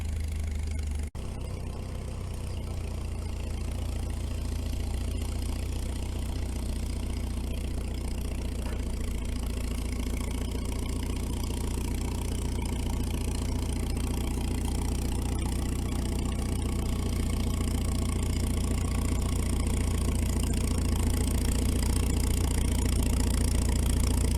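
A truck engine runs steadily while plowing snow, a low continuous rumble that stays near and even throughout with no voices.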